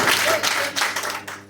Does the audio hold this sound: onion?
no